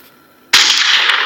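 A single sharp pistol shot cracks in a video game, bursting loud and abruptly out of a quiet room tone and ringing briefly afterward.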